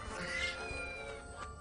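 A small cat-fish creature in a miniature zoo lets out a thin, drawn-out meow, close and fairly quiet over a soft background hum.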